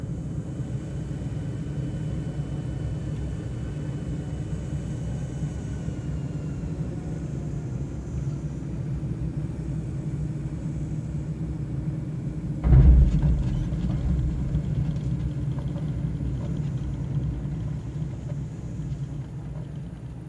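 Simulated light aircraft in VFR Flight Academy rolling out after a crosswind-lesson touchdown, a steady engine and wind rumble broken by a brief thump of contact, then continued rolling noise as it brakes.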